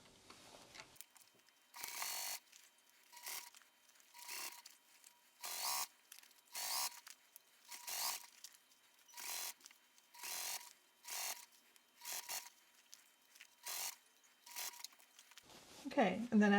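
A sewing machine stitches a small fabric wristlet in short, evenly spaced bursts, about a dozen runs separated by brief pauses, close and fairly quiet.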